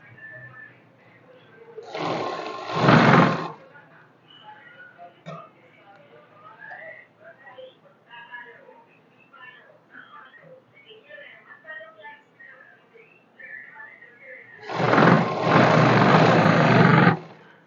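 A sewing machine stitches the waistband of a plain salwar in two short, loud bursts, one near the start and one near the end, with someone talking quietly in between.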